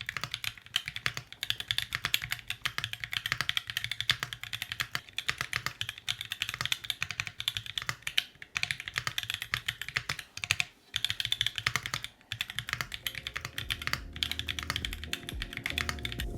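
Rapid, steady keystrokes on a custom mechanical keyboard with lubed stabilizers, close and dry, clattering continuously with occasional louder bar thocks; a low musical drone enters near the end.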